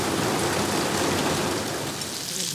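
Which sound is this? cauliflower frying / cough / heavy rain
heavy rain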